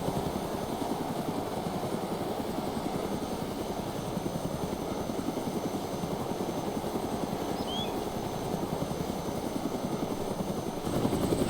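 A helicopter in the survival game DayZ, a steady rhythmic rotor chop that stays constant and moderately loud throughout with no speech.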